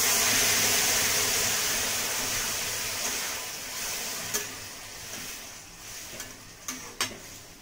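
Spiced peas and potatoes for ghugni stirred in a hot pan with cumin, chili and turmeric powder, a steady close sizzle that slowly fades, with a few scraping clinks of the spoon near the end.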